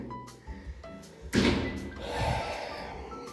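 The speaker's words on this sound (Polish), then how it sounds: "zamykamy drzwi. Na dole się zamknęło." A leaky door is pushed shut with a single solid thud partway through, followed by a brief rumble, set against quiet room sound.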